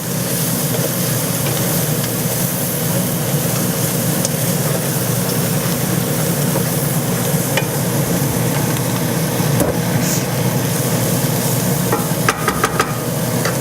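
Bacon tossed back into a hot pan with Brussels sprouts, giving a steady, loud sizzle with soft scraping and rustling throughout and a few sharp clicks near the end.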